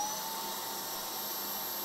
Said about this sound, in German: Also, schalten wir mal den Staubsauger ein.